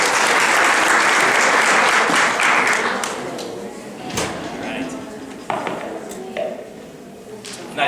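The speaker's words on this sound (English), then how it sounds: "Have a round of applause, guys." Audience applause fills a haircutting class, loud dense clapping for about three seconds that fades out, followed by scattered handling knocks and people talking.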